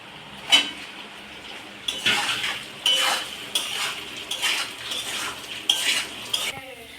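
Pre-fried potatoes tumble into spiced turmeric masala in a pan, with repeated close clinks and clatters of a metal spoon against the pan over a faint background sizzle.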